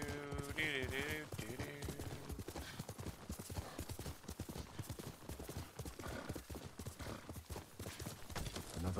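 The samurai horse Sora from Ghost of Tsushima gallops with rapid, rhythmic hoofbeats, loud and close, while a whinny rises near the start and steady game ambience sits beneath.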